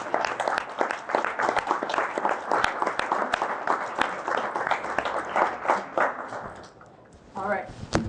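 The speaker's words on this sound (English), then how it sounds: "So let's give Tannia a round of applause." Audience applause at a business seminar: a crowd claps steadily for several seconds, then thins out as a voice begins speaking near the end.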